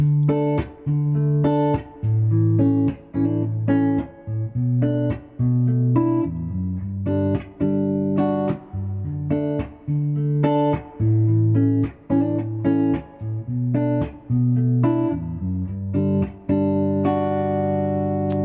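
An acoustic guitar strums a chord progression in a steady rhythm, chords changing every few beats, played up close with no voices.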